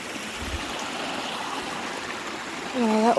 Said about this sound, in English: This is just coming down the mountain.